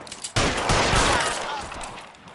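A gunshot in L.A. Noire, a sudden loud blast followed by a sustained noisy burst that slowly fades, heard alone.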